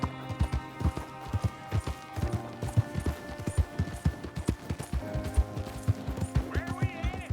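Rhythmic clip-clop of horse hooves at a steady gallop in Red Dead Redemption 2, close and continuous, with a jingle of tack and a brief voice near the end.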